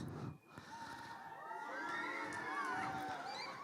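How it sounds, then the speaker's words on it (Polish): A young school audience in a hall squeals and shouts together, a sustained, fairly distant roar of high-pitched voices that swells and holds for several seconds. "żebyście podkreślili swoją obecność jakimś piskiem na przykład"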